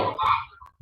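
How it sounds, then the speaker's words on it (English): A backyard chicken calls outside, a few short squawking clucks with gaps between them, moderately near and alone. "Sounds like I got a chicken out there that wants a little attention"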